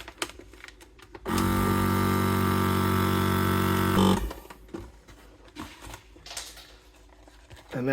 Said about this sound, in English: I got my vacuum sealer